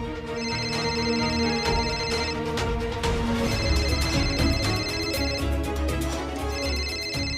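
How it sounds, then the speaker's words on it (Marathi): A telephone ringtone repeats in steady bursts, loud and close, with a bright electronic melody over a busy background. "दादांचा फोन आहे हा"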